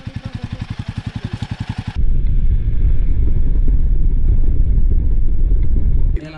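A motorcycle engine putters at idle, then revs into a loud, steady roar that holds for several seconds before cutting off abruptly, on a mountain ride from Manali to Sarchu.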